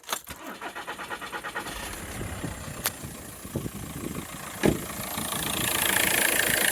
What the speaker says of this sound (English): Now I think I can hear the flywheel starting to just rattle every now and then.